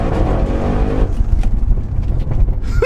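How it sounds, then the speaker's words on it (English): An Audi RS6 engine revs deep and loud close by, then drops off into a lower rumbling burble as it downshifts, with engine pops and crackles continuing to the end. "Even the downshift, did you hear that?"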